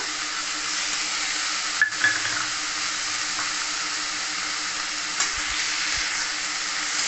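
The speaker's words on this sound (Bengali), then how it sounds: "ভালো করে নাড়াচাড়া করে নেবো।" Malabar spinach fries with salt and turmeric in a pan, giving a steady, close hiss of sizzling oil broken by a few faint stirring knocks, with no voices.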